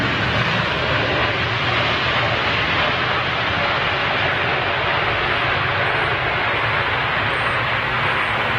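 A Royal Jordanian Boeing 787 Dreamliner lands on a windy day at London Heathrow, its engines roaring in a broad, steady rush of jet noise close by as they spool down.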